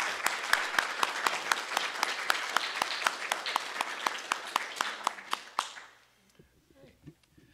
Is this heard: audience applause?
yes